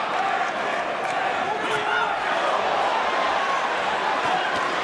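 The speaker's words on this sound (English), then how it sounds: "This crowd is loving this title fight already" Boxing arena crowd roaring steadily through a title fight featuring Terence Crawford, a dense, loud, continuous wash of cheering voices with no pauses.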